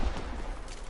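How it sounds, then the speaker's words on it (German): Explosive blasts and gunfire-like bursts from the monster-hunting video game Dauntless on PS4, a dense, continuous rumbling barrage with a heavy low thump near the start, sounding somewhat distant. "Habe ich eine Explosion gehört."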